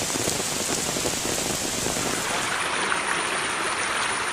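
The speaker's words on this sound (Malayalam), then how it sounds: "മഴ കനത്തതോടെ നേര്യമംഗലം ഇടുക്കി റോഡിൽ മണ്ണിടിച്ചിൽ" Heavy rain pours steadily and loudly on the Neriyamangalam–Idukki road during a landslide, a dense continuous hiss and patter with no voices.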